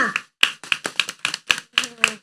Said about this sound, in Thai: ปรบมือให้ตัวเองดังๆค่ะ